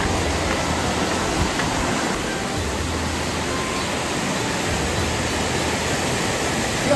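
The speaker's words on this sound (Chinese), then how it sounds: "梁山瀑布" Liangshan waterfall in Pingtung, Taiwan, rushing as a loud, dense, unbroken roar of falling water close by, with no talk.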